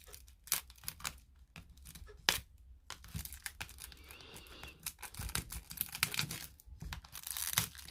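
Packaging of a Healing Crystals playing card deck is torn and crinkled open by hand in bursts of ripping and rustling, close and fairly quiet, with no talking.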